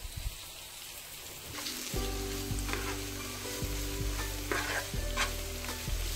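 Spice paste (vatan) frying in a pan for a crab curry, a steady close sizzle broken by repeated scraping stirs, loud and continuous with no talking.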